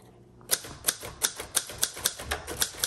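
A 1970 Royal Sabre manual typewriter clacks after a brief quiet, with about ten sharp, evenly spaced keystrikes, close and crisp.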